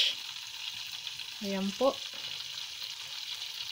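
Lumpia spring rolls frying in a pan give a steady, soft sizzle throughout, while someone speaks a brief phrase over it partway through.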